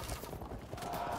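Units in the Field of Glory II strategy game loose a volley of missiles, a brief, dense burst of overlapping clattering impacts at moderate loudness.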